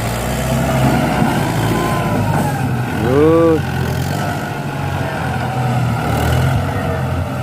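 A Ford New Holland 7610 tractor rumbles steadily as it pushes through water, its engine a loud continuous drone with a brief rising whine midway, while someone talks over it.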